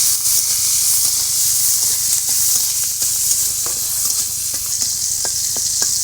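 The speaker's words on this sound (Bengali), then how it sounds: "চিংড়ি মাছগুলো একটু ভাজি করে দেবো।" Loud, steady sizzling of prawns frying in hot oil, with frequent small pops and crackles throughout.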